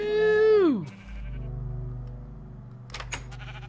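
A sheep in a video game lets out one loud, near bleat with a drawn-out, falling cry, followed by a low steady hum and some faint clicks near the end.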